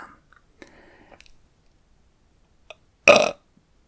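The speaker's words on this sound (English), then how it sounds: "I just thought I'd add a burp in there for fun." A single loud, deliberate burp lasting about a third of a second stands out against near silence, preceded by faint soft mouth clicks and quiet breathy noises in a close-miked ASMR setting.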